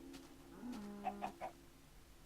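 Soft, clipped Minecraft chicken clucks, three short blips in quick succession over a quiet hum, faint and small-sounding.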